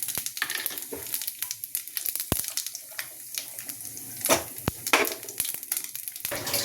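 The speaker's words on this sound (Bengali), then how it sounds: "জিরে আর শুকনো লঙ্কা ফোড়ন দিলাম।" Cumin seeds and dried red chilies dropped into hot oil in a kadai for tempering, crackling and sizzling with sharp spitting pops over a steady fry, close up with no voices.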